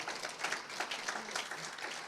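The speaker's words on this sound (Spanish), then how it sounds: "Dele un aplauso al Señor," A church congregation claps for the Lord in a Spanish-language service, a soft, even patter of many hands heard at a distance.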